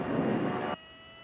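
Engines of a multi-engine training aircraft roaring at full power for takeoff, a loud broadband drone with a steady tone that drops abruptly to a quieter hum after under a second.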